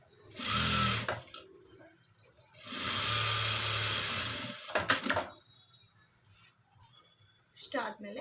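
A sewing machine stitches along the edge of fabric in two bursts of fast, whirring motor hum, each about two seconds long. Short clatters and speech come in between them.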